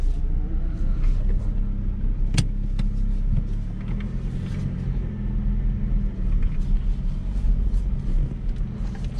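A Ford Transit van that has broken down reverses slowly, its engine giving a low, continuous rumble close by, with a sharp click or knock partway through and small mechanical rattles over the drone.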